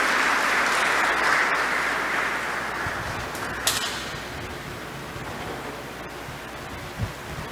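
A crowd at a graduation ceremony applauds with sustained, dense clapping that gradually thins and softens toward the end.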